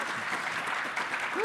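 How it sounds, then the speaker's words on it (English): A small group claps briefly, a soft even patter of applause with a voice rising at the end. "Round of applause for our winner"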